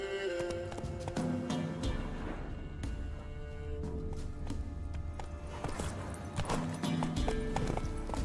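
Roach, the horse in The Witcher 3, gallops with a steady, rhythmic clip-clop of hooves set against a dense backdrop of game music and ambience.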